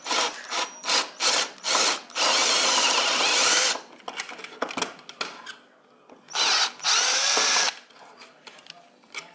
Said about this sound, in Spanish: Lo estamos haciendo con el taladro